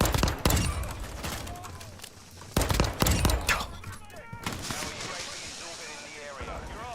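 Bursts of rapid video game gunfire crack close and loud, with shots clustered in the first few seconds, then a softer rattle of distant fire and game noise for the rest of the clip.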